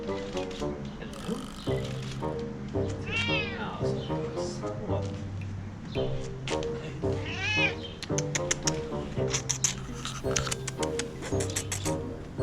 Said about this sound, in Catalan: Aquí tenim el Manx, el gat